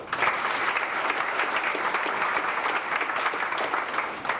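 A banquet crowd at a 1998 county FFA event gives a full, steady round of applause for former officers, dense clapping from many hands holding at an even level throughout.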